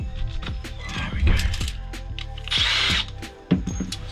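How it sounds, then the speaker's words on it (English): A power drill whirs close by in bursts, drilling into a three-phase busbar chamber, its motor pitch rising to a high-pitched whine near the end before cutting out, with brief clatter around it. "drill this out there before the armor's in the way"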